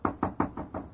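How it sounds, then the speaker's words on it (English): Four firm, evenly paced knocks land on an office door, crisp and close, in an old radio comedy with no voices during the knocking. "I'd better knock."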